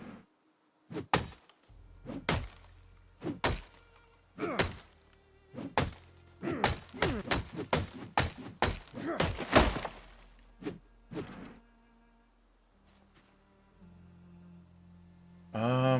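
Repeated fire axe strikes in Project Zomboid: a series of sharp, heavy thwacks in irregular bursts, some closely clustered, then fading to quiet room tone.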